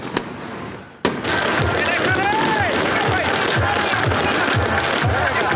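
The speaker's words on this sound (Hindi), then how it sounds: "शानदार आतिशबाजी का मुजाहरा जारी है।" New Year fireworks in Karachi crackle and pop continuously after a sharp bang, dense bursts near and far with whistling streaks rising through the noise.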